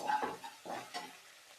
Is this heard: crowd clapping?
no